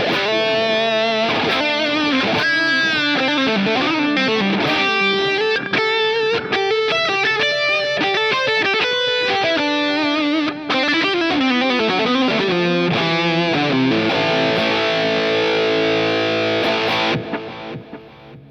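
A heavily distorted, high-gain electric guitar tone run through Positive Grid BIAS FX plays a busy riff with sustained chords, loud and continuous throughout, ending on a ringing chord that fades out.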